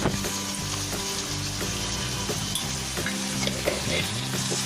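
Corn rice with coarsely ground corn, salt and spices is stirred in a sizzling pan, with a continuous fry crackle under rhythmic scraping and mixing strokes.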